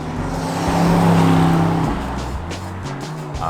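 2021 Aston Martin DBX with an AMG engine and an exhaust tuned by Aston Martin, a loud engine surge and rev that swells and then drops off as the SUV accelerates, with no talk.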